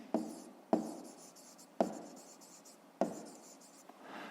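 A pen taps and scratches on paper in four distinct short strokes spaced about a second apart, each trailing off into faint rubbing, quiet and close with no voices.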